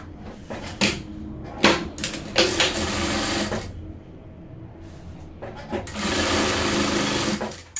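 A sewing machine stitches a patchwork table runner made from fabric scraps, running in several loud bursts with short pauses between them and one long steady run near the end, close up.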